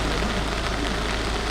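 Heavy rain pours down in Gabon as a dense, steady hiss with no gaps. It is loud and close, with no voices.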